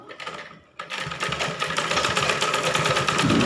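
A sewing machine stitches blouse fabric in a continuous fast run of rapid, even needle strokes, starting after a short pause and staying loud and close throughout.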